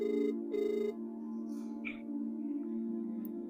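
Ringing tone of an outgoing telephone call: two short harmonic ring bursts in the first second, then a steady tone continuing underneath, moderately loud with no voices.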